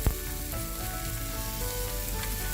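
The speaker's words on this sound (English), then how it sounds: "I'm going to use the whole pan right now and continue sauteing our onions till you caramelize it" Onions sautéing across a whole pan until caramelized, a loud, steady, dense sizzle of frying with no voices, from a batch cooked for cheddar cheese burger sliders.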